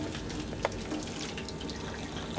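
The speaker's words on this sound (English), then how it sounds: "and the water runs out" Water from blended zucchini relish trickles and splashes steadily through a sieve, a soft continuous running sound with a small tap partway through.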